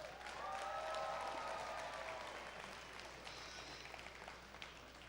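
An audience at a robotics competition district event applauds to welcome rookie teams, giving steady, moderately distant clapping that swells early and then tapers slightly.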